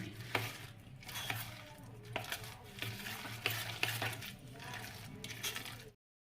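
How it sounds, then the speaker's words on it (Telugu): A spoon stirs and mixes a thick batter for chitti punugulu, with wheat flour, ginger and salt in it. The close, steady mixing has wet slaps and small clinks against the bowl, with no talking. "ఇవన్నీ మిక్స్ చేయాలి."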